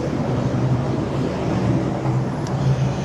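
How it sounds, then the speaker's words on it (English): Constant city traffic roar on a rainy Melbourne street, a dense, steady rumble of passing cars heard close by, with no voices over it. "That's the problem with vlogging in the city. Traffic noise."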